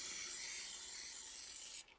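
Spray adhesive hisses onto quilting fabric for a pillow project in one close, steady burst of about two seconds that cuts off sharply.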